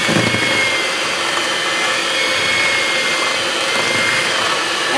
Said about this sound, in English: So I start off on my mixer on low speed.